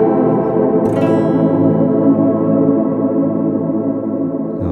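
Guitar through a Microcosm pedal on its third haze preset gives a lush, washy, reverberant drone of layered sustained notes, loud and continuous for several seconds with a brief bright swell near the start, no talking.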